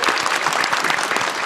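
A live podcast crowd at PAX East 2024 applauds, a thick wash of many hands clapping with uneven bursts, loud and continuous throughout, with no voices standing out.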